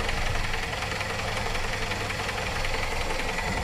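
A Toyota LiteAce 5K engine running steadily up close after a top overhaul, a loud constant rumble with a knocking, vibrating texture and no speech.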